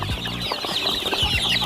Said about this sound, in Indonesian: Inilah ayam kampung petelur saya, kampung petelur Elba